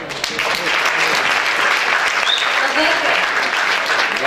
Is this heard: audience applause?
yes